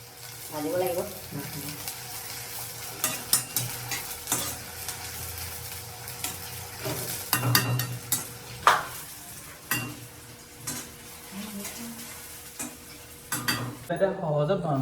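Chicken for a kurma fries in oil in a pan with a constant sizzle, punctuated by irregular clanks and scrapes of a spoon stirring against the pan; a voice speaks briefly in the background.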